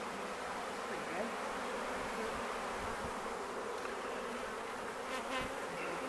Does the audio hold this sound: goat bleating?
no